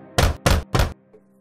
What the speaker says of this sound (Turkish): Oğlakların yaşadığı eve gidip tekrar kapıyı çalmış.